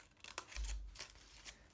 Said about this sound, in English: I'm going to take just plain scissors